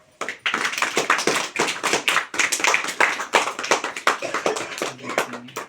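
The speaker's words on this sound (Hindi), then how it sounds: "आप लोग ताली बजाएं" A church congregation claps hands at a Hindi Christian prayer service, a brisk, uneven burst of many palms, fairly close and sustained, with a low voice or hum surfacing near the end.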